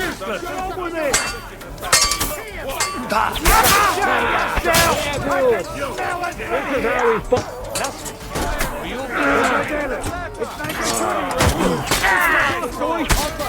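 Cannon fire in Kingdom Come: Deliverance II booms in several sharp, heavy blasts spaced a second or two apart, mixed with clanking impacts, while voices shout between the shots.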